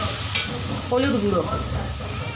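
Mutton kosha masala is stirred and fried in oil, giving a steady sizzle with soft scraping strokes under a woman's speech.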